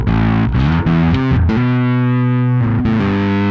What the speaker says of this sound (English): I want you to really hear the difference in the distortions